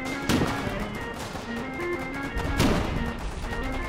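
Gunfire in the online war game Foxhole, with two loud close shots about two seconds apart over a continuous rattle of distant weapons fire and a low rumble, no talk.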